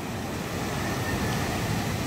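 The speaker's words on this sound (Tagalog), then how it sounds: "sa tabihan pa lamang yung medyo ito nagkakaalon-alon eh" Sea waves breaking along the shore, a steady full-band wash of surf with wind rumble, close and continuous with no voices.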